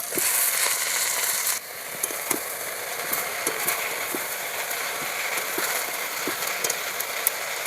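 Kalmi shak (water spinach greens) hits hot oil with a loud hiss that drops slightly after a moment, then keeps up a broad sizzle with frequent sharp crackles and pops.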